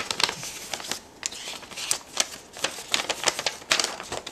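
Crinkly paper and plastic handling while a sticker-sealed package from Japan is opened, a run of close, sharp rustles and tearing crackles in irregular bursts.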